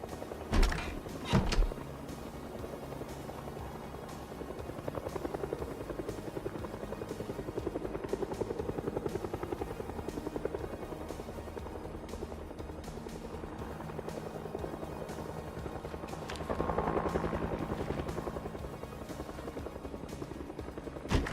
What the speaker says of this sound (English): That is the helicopter event.